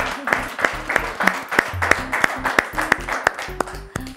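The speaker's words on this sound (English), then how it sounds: "let's give them a round of applause" Steady rhythmic clapping in unison, sharp claps about three per second, with voices murmuring underneath throughout.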